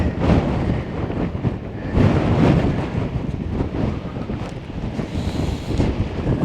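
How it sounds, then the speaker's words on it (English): Strong wind on the Appalachian Trail buffeting the microphone in loud, rumbling gusts that swell and ease, with no voices over it. "That wind it'll just take you all over the place."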